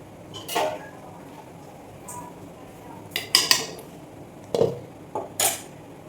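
A metal lid set onto a pot of kingfish curry gives a few scattered clinks and scrapes, close and moderately loud, over a quiet kitchen background.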